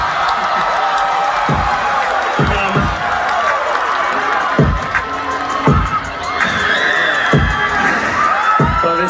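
A concert crowd in Charlotte roars in sustained cheering with whoops and scattered shouts, loud and continuous, while sharp thumps punctuate the din at irregular intervals.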